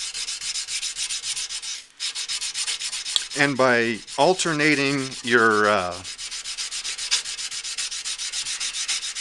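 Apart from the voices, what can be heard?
hand sanding a knife blade with sandpaper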